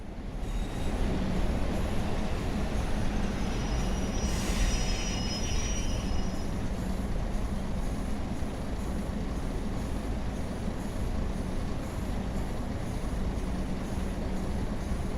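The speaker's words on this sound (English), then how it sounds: "SD40-2s are the best diesel-electric locomotive models produced." An SD40-2 diesel-electric locomotive train in a video game rumbles steadily and loudly throughout, with a brief high wheel squeal rising over the rolling rail noise partway through.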